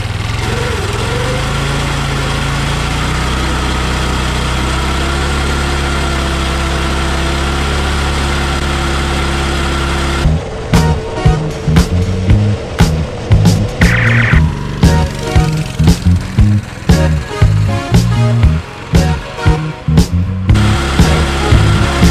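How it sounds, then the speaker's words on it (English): A budget go-kart with no live axle revs its small engine. First comes a steady, loud, droning idle, then a burst of rapid, choppy revving and sputtering pulses as the rear tires spin in a short burnout. "the go kart did an awesome burnout"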